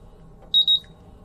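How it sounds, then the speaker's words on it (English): MultiRAE gas detector sounding its alarm from calibration gas: two short, piercing electronic beeps back to back, clear over faint background hum. "we'll see that the instrument is in alarm still because there is still calibration gas present"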